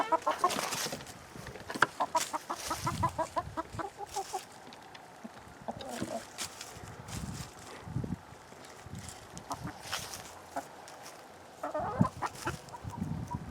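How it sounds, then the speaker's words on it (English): Hens cluck and call repeatedly as they are let out of a dirty backyard coop, the clucks near and overlapping in irregular bursts across the whole stretch, with occasional louder squawks. "Alright, so let's let the chickies out."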